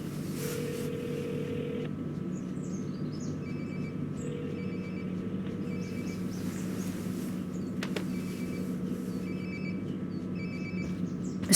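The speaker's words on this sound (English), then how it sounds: "Sounds like my phone is definitely nearby." A phone rings nearby in Life Is Strange: Before the Storm, its repeated electronic tone bursts recurring at a steady rhythm over a constant low background hum, with no one talking.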